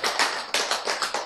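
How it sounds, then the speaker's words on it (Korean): An audience at a health lecture claps in a few quick, sharp bursts, each one a loud patter of hands that fades briefly before the next begins. "박수 쳐야지, 박수. 힘차게."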